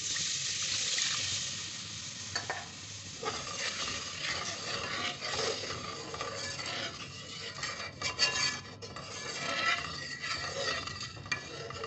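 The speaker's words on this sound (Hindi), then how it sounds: "अब हम इसमें शामिल कर देंगे 1 कप दूध का" A cup of milk is poured into besan for Punjabi besan sudka, producing a steady, close wash of liquid and stirring noise with faint clinks of a spoon, continuous throughout with no talk.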